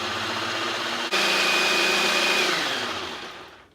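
An electric mixer whirs steadily through batter with a little milk added for Mexican chicken taquitos, a loud continuous motor drone with a brief dip near one second, then fading out toward the end.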